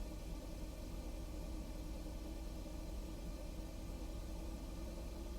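Engine 4 of a Felis Boeing 747-200 in the X-Plane 12 simulator spins up on start, a steady broadband roar and hiss that holds constant throughout without speech.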